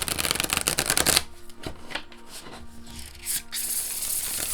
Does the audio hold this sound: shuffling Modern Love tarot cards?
yes